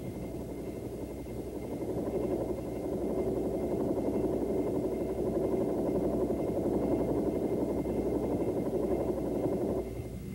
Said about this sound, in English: To initiate a normal takeoff from the ground, the student pilot applies collective to get the aircraft light on the skid